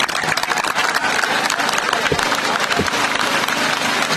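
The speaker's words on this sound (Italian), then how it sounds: "Un applauso, ragazzi." A crowd at an outdoor pro-Palestine demonstration in Rome breaks into loud, dense applause with crowd noise, continuous and close for about four seconds, with a few voices mixed in.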